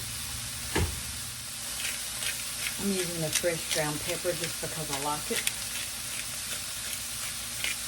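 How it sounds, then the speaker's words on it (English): Peppers and onions sauteing in a hot pan with salt, giving a steady close sizzle and crackle throughout while a person talks over it. "Remember, we're sauteing these."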